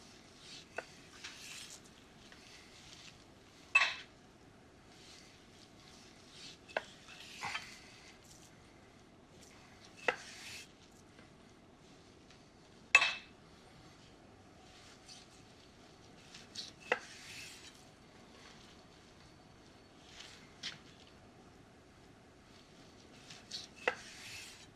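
A knife cuts a portion of food on a cutting board in a quiet kitchen, leaving soft, sparse chopping knocks at irregular intervals, about a dozen faint sharp taps with near-silence between them.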